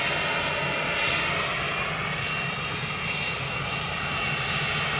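A Ryanair Boeing 737 Max jet at Manchester Airport, its engines giving a loud, steady, continuous roar close by, with no talking.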